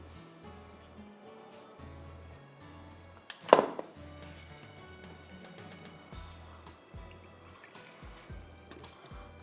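A quarter cup of water is poured into a bowl of dough mixture during kebab preparation, a short close splash and trickle standing out over quiet background music.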